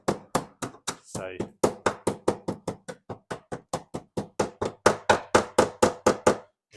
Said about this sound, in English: we don't put hammers to cars, but when the rust is that compacted, you're better off knocking it out